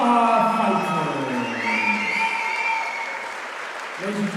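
At a Kingdom Combat cage-fighting event, the arena crowd applauds both fighters with loud cheers and whoops mixed into the clapping, while an announcer's amplified voice rings over the noise.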